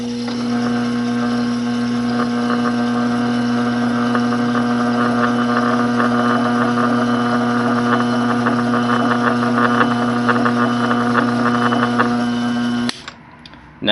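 A watchmaker's lathe reaming a hole with plenty of cutting fluid, a steady close motor hum with chattering, scraping bursts on top that stops abruptly near the end.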